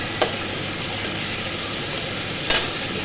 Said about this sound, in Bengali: এর সঙ্গেই আমি পেঁয়াজটা দিয়ে একবারে ভেজে নেবো কারণ আলুটাও লাল লাল করে ভাজতে হবে